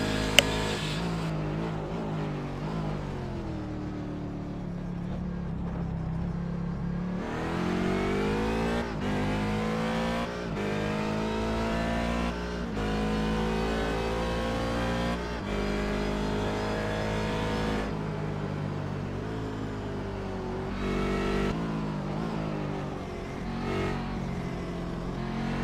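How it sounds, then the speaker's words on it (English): Daytona Prototype race car lapping a circuit in preseason testing, its engine revving up and down through gears with loud rising and falling pitch sweeps, shifting repeatedly, slipping on worn rear tyres. "So he'll finish his lap off working the rears and have another crack at it."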